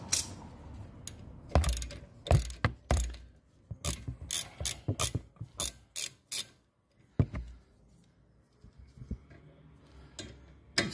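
Rear brake parts from a Lexus NX200t, clamped in a vise, are worked loose with a ratcheting tool, producing a close series of sharp clicks and metallic clatters in irregular bursts separated by short pauses.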